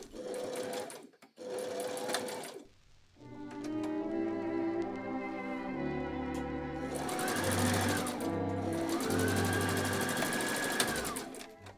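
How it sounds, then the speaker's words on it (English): A domestic sewing machine stitches the side seam of a dress, its motor whirring in sustained bursts with pitch rising and falling between short pauses and a pivot at the marking. "sewing until the marking, leaving the needle down but lifting the presser foot, and pivoting the dress so I could carry on sewing the side seam"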